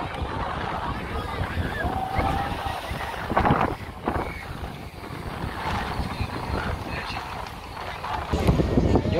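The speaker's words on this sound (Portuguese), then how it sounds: "tá ventando bastante aqui" Strong wind buffets the microphone at a beach by an old pier, a loud irregular rumble gusting throughout while a person talks.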